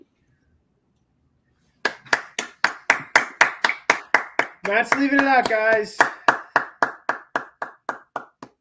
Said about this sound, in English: That was a terrible round of applause, though.